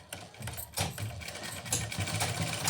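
A sewing machine stitches a salwar in a steady, fast mechanical rattle that runs close and continuous with no talking.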